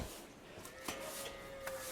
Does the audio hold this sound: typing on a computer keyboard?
no